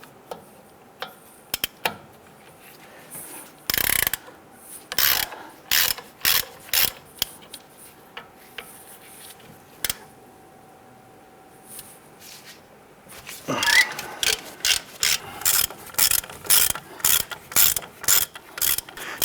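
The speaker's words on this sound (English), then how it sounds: "We're going to use our 18mm socket to go ahead and loosen these 3 wheel hub" Ratchet and 18mm socket working loose the three wheel hub bolts on a 2002-2008 Dodge Ram 1500, with bursts of rapid, loud metallic clicking, short pauses between strokes and a denser run near the end.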